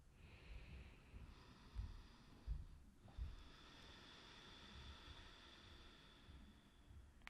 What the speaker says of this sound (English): If you have ujjayi in your practice, this is where you can bring it in, that gentle hissing sound.